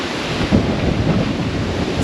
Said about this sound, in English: this wind and rain. Oh, it's horrible right now